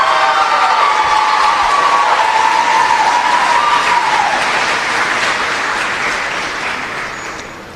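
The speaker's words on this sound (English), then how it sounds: "let's give all of our contestants a round of applause" A crowd at a youth fair contest applauds loudly and continuously, with some cheering mixed in, and the clapping slowly fades toward the end.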